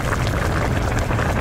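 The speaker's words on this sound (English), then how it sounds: "Actually, that is a pan on the hob with boiling water." A dense, bubbling rumble of water boiling hard in a pan on a stovetop, steady and close, with no voices.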